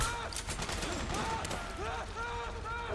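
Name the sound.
gunshots in video game Metal Gear Solid 4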